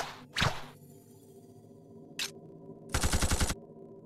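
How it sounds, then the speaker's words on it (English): Repeater arm cannon firing in the Dororo video game Blood Will Tell, a loud whooshing shot, a brief burst later, then a rapid rattling volley of about a dozen quick shots. "I call it the repeater arm cannon."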